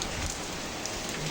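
Cyclone Remal rain on a rooftop garden, a brief, even wash of falling drops at moderate loudness with no voices over it.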